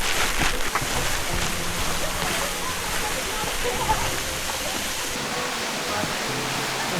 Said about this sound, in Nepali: सो यहाँ चाहिँ अब एउटा झरना रहेछ